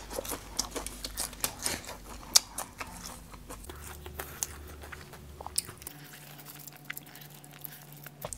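Crunchy grilled skewers are bitten and chewed up close, with crisp crackling crunches repeating steadily and no talk over them.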